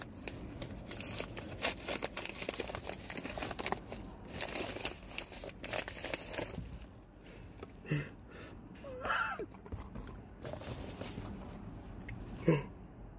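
A new yoyo's packaging is torn open by hand, with crinkling, crackling plastic and paper at close range, coming in bursts and then in scattered quieter snaps.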